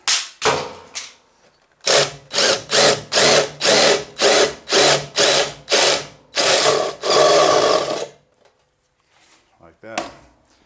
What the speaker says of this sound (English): I got lazy and I'm just using my hand drill.